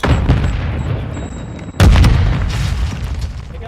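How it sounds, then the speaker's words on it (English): A stun grenade goes off in a Call of Duty multiplayer match: one sharp, loud blast near the middle, with background battle noise and faint game audio before it and a rumbling tail after. "Stun grenade out!"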